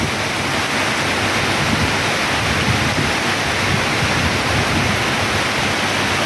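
Heavy rain at night pours down over a flooded car park, a dense, loud and unbroken hiss of downpour with no voices.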